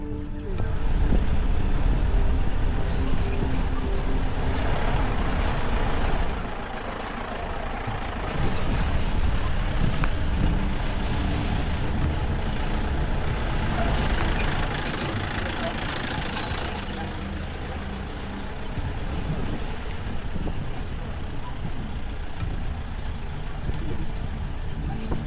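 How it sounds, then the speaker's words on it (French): A Jeep with an experienced driver climbs a badly broken mountain track toward Kolukumalai peak in Kerala, its engine droning steadily and loudly with rattling and jolting, the revs shifting as it labours over the ruts. "Nous louons une Jeep avec un chauffeur expérimenté pour monter jusqu'au pic Kolukumalai sur une piste"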